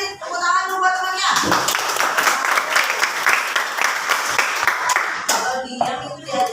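A class of students claps for a classmate, a burst of hand clapping from the group that runs for several seconds, with voices talking over it at the start and end.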